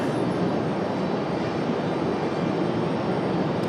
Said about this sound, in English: American A321.